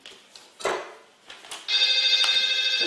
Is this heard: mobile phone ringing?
yes